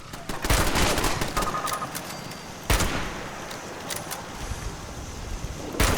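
Automated turrets firing at an enemy wave in Fallout 76, a dense rattle of rapid gunfire with sharp individual cracks over a steady windy ambient bed, loud and continuous throughout.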